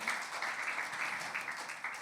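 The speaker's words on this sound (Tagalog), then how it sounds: "Can we give the Lord a clap offering of praise?" A church congregation claps together as a praise offering to God, a soft, steady patter of many hands heard at a distance for a couple of seconds.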